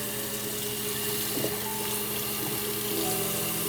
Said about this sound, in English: Let's see what we get when we rinse.